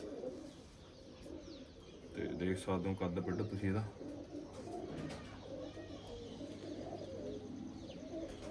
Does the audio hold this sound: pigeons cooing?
yes